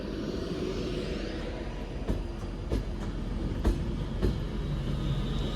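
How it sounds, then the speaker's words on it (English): Class 390 Pendolino train departing Manchester Piccadilly for London Euston, a steady low rumble with several sharp bangs and clanks spaced irregularly as the carriages roll past the platform. "spot the rides Valentine 390-122, railing off to London Euston"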